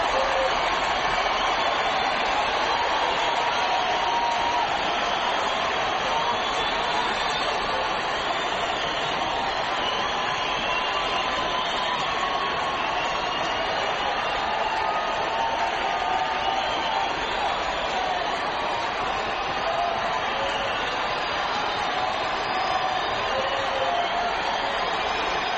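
A huge crowd at a Yankees at Dodgers baseball game in a stadium holding about 56,000 roars without pause, a dense, sustained wall of cheering noise.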